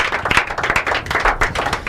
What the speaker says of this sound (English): Warm round of applause to you.